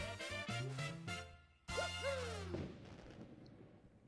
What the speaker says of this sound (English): And one measly firework.